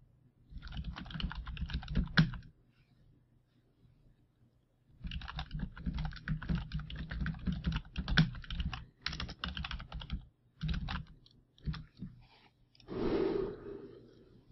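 Rapid clicking of keys on a computer keyboard during a Hearthstone session, typed in close bursts with a pause of a few seconds between them, then a softer rustle at the end.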